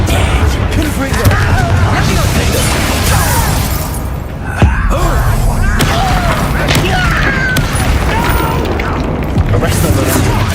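Confringo fire-blast spells cast in the game Hogwarts Legacy: dense, loud explosive booms and crashing impacts layered with spell effects and combat noise, continuous throughout with brief voiced battle shouts mixed in.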